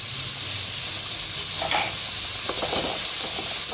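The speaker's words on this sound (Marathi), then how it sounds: "कढई चांगली तापली तेलच आपल्या आपण हा कांदा त्याच्यात फ्राय करून घेऊ" Onion fries in hot oil in a heated pan with a steady, loud sizzle and hiss, and occasional brighter crackles and pops come through.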